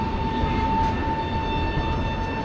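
At an Indian railway station platform, a departing express train's horn sounds as a sustained, steady tone over continuous rumble and platform hum, moderately loud and somewhat distant, with no talking.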